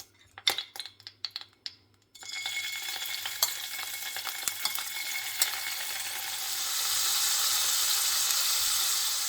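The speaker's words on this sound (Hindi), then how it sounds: "पैन बसई की तेल पकेली। एबे आमे टोफू को फ्राई करिया।" Marinated tofu goes into hot oil in a pan, a few sharp clattering knocks first, then a continuous sizzle that swells louder toward the end, with no talking.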